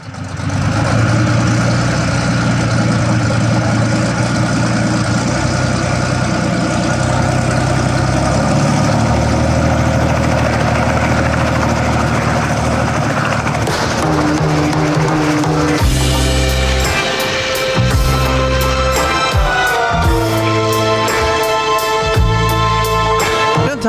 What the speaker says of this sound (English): Gonna go out in their helicopter plane.